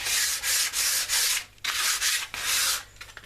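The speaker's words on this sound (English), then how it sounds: "So just sand the rough bits off" Hand sanding of a wooden patress for vintage Bakelite switches, smoothing off rough bits with steady back-and-forth strokes that produce loud, close, hissing rasps in a regular rhythm of about six passes, with no voices.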